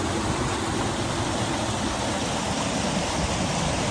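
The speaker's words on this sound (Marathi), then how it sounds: "पाण्याचा आवाज पण येत असेल." Steady, loud rush of flowing water from a waterfall or stream at a scenic spot near Pune, a continuous broadband roar filling the whole stretch with no voices.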